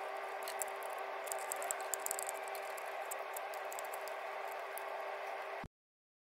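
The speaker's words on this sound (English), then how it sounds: "I'm just going to put the bottom ones in and just gently wind them down" A ratchet spins bolts down onto the front crankshaft oil seal housing of a 2014 Skoda Octavia 1.6/2.0 TDI engine, making a fast, close clicking rattle over a steady hum before cutting off abruptly.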